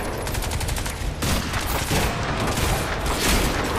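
Gunfire in Crysis 2 on Xbox One, a Magnum-style pistol among it: dense, loud, continuous volleys of shots and booms crowding together with no pause for nearly four seconds.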